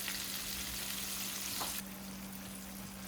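Shrimp fry in hot oil for bang bang shrimp, a steady close sizzle with a low hum; the hiss softens noticeably after a brief stir near the middle.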